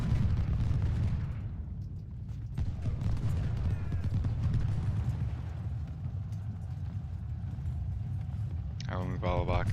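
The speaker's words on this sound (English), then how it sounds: "Actually, shoot them in the rear." Massed musket and artillery fire from a Civil War battle in the strategy game Ultimate General: Civil War, a steady rumbling roar of distant volleys and booms throughout, with a brief voice near the end.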